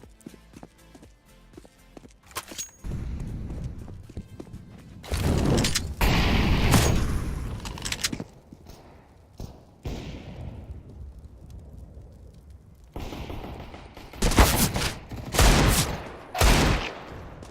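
Rapid gunfire bursts in a Counter-Strike round on the Dust 2 map, with loud clusters of shots around the middle and again near the end, separated by quieter stretches of game ambience.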